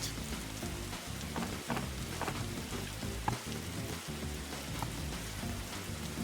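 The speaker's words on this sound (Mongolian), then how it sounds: "Тэгээ бороо орчлоо." Rain falling in the Roblox video game 99 Nights, a faint steady patter and hiss of drops heard at low level with occasional small ticks, no talk.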